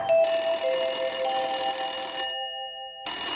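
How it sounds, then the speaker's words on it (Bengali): A telephone ringing in a Bengali TV drama, a bright electronic tone held for about two seconds, a brief silence, then the ring starting again. "এই দোয়েল, যা ফোনটা ধর।"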